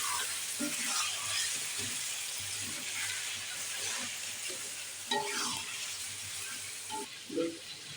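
Fried onions are stirred into a biryani base in a pan, giving soft scraping and clattering strokes over a steady low sizzle, with a couple of sharper knocks near the end.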